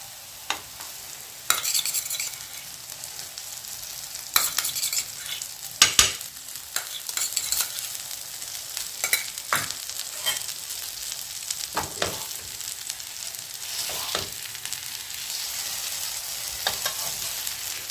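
Dahi toast frying in ghee in a pan, with a steady close sizzle broken by intermittent scraping and stirring clatters from a utensil against the pan.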